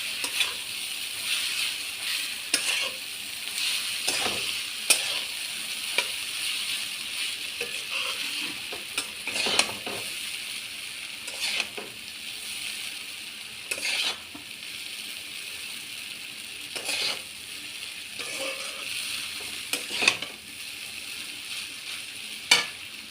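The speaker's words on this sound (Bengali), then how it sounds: "চাউমিনটা দিয়ে ভালো করে আমি নাড়বো।" Chowmein noodles sizzle and fry in a pan while being stirred, with a constant hiss broken by repeated scraping strokes spread across the stretch, fairly close and without talk.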